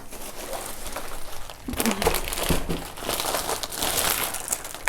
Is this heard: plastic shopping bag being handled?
yes